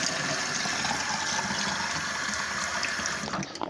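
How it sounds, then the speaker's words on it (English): Water runs steadily from a sink tap into a cup, a constant close-up splashing rush that stops abruptly at the end. "And you turn the water on."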